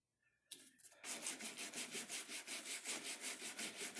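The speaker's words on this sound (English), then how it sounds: "And then back at it with the brush." A paintbrush sweeps finish across a wooden exterior door in quick, rhythmic back-and-forth strokes, close and clear, after a short quiet start.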